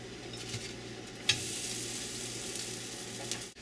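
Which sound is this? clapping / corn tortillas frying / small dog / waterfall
corn tortillas frying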